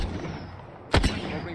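A short burst of gunfire rings out in the Apex Legends battle royale shooter, two sharp close shots over a low rumbling game backdrop.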